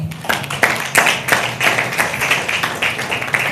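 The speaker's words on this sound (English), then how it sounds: "Let's give the Lord a clap" A church seminar audience claps together in a loose, fairly rhythmic burst of sharp, close hand claps that lasts several seconds, loud and without talk over it.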